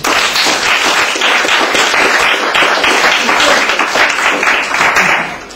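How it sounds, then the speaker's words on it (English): An audience at a peace campaigning event applauds steadily, a dense, loud wash of clapping that holds for several seconds without talk. "So please give them all a round of applause."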